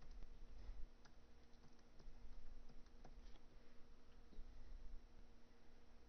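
Faint, irregular keystrokes tap on a computer keyboard as an admin username and password are typed, scattered soft clicks over a quiet room hum.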